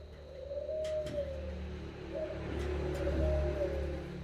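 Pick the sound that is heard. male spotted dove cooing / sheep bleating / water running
male spotted dove cooing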